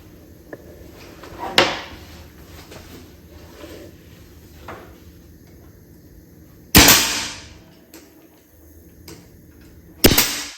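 A nail gun fires nails into a wooden board for a backyard washer game. Three sharp, loud, separate bangs land several seconds apart, with quieter workshop noise and faint handling between them.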